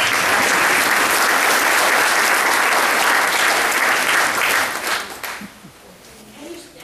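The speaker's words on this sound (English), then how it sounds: "I think you need a big round of applause for yourself." A large audience at a public program gives a dense, sustained round of applause that holds steady for about five seconds, then thins and tapers off to a few scattered claps.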